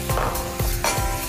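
Sauce is stirred into spinach in a hot sizzling pan, with a spoon scraping in a few quick strokes over a steady sizzle, close and alone.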